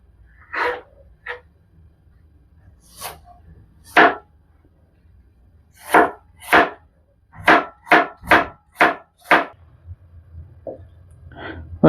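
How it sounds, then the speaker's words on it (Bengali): Fruit, including a peeled apple, is cut with a knife on a chopping board for a rabri dessert: sharp, close knocks, first scattered, then a quick steady run of about ten, with no talking. "এদিকে ফ্রুটগুলো কাটিং করে নিচ্ছি।"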